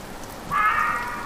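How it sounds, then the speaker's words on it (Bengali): A short burst of rain hisses in halfway through, a dense steady wash with a faint whistling tone above it. "বাইরে বৃষ্টি ঝরছে, মাঝে ঝোড়ো দমকা হাওয়া বইছে"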